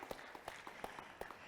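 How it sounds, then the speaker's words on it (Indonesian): Audience applause at the Indonesia Green Awards 2023 ceremony, a brief burst of scattered clapping heard faintly at a distance with no talk. "Boleh dong kita berikan tepuk tangan 15 tahun"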